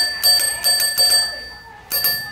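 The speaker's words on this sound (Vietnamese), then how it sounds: "đây là chuông của nó đây" An original Lattano bell on a stainless Bridgestone bicycle rings in a few quick bright strikes, then rings again after a brief pause, with a lingering metallic tone.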